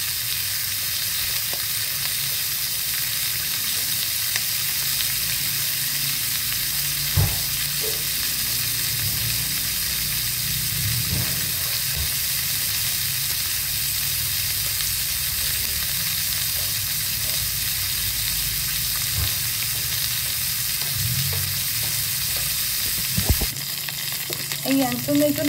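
Pork sizzles steadily in its own rendered fat in a pan while cooking for a porksilog breakfast, with a continuous close frying hiss and occasional small pops and stirring sounds throughout.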